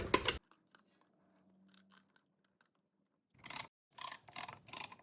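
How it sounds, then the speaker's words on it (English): A brake caliper piston compression tool is ratcheted while replacing the front brake pads on a 2018 Chrysler Pacifica. One sharp click opens, then near-silence with faint ticks, followed by a run of loud, close ratcheting clicks near the end. "I'm going to add a little bit of pressure to the plates and begin ratcheting"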